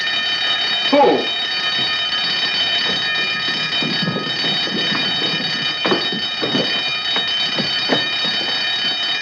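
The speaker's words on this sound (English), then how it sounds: "Turn off the alarm." An alarm rings steadily throughout, a continuous high buzzing tone under scattered footsteps and movement, with a brief spoken word partway through.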